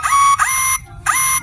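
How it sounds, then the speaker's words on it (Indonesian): A viral truck reversing alarm horn fitted on a child's bicycle sounds loud and close, giving three short electronic beeping bursts with brief gaps between them. "sepedanya dikasih klakson alarm truk mundur yang lagi viral"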